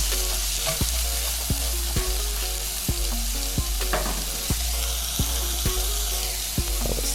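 Cauliflower rice mixed with broccoli, carrots and green onion fries in a pan with a steady sizzle, punctuated by regular sharp clacks of a utensil stirring and tapping the pan.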